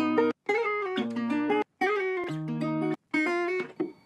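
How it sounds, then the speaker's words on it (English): A synth-like melodic Afrobeat part processed through the RC20 Retro Color plugin, with a little white noise, wobble and distortion added. It plays as choppy sustained chords in short phrases broken by brief gaps, alone and fairly loud. "the retro color RC20 just gave it a little bit white noise, some wobble, some distortion"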